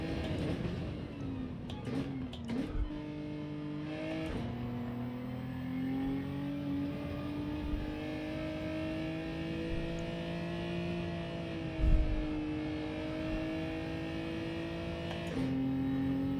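A Gran Turismo race car engine revs high and steady in third gear for a long stretch, droning and whining with slight pitch dips, near and loud with no talking.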